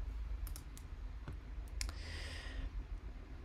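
Keyboard keys and a mouse button clicking at a computer while searching for icons in the Material UI React component library, a few sharp separate clicks over a steady low background hum, no talking.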